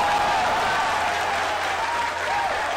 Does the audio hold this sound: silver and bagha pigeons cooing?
no